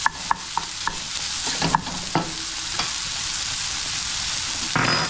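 Rice being stirred and fried in a hot pan for homemade fried rice: a steady close sizzle with several sharp scraping stirs near the start, then continuous frying alone.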